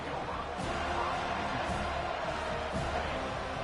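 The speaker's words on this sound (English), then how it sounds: "This crowd, full throat, splitting the eardrums and letting them know it's going to be a long day." Football stadium crowd roaring at full throat, a dense, loud, sustained wall of cheering and noise with swells throughout.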